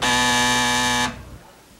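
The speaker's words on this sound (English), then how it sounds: "Did I not just say don't buzz until I finish asking the question?" Quiz show buzzer on a high school quiz game show, one loud sustained harmonic buzz lasting about a second and cutting off abruptly into room noise.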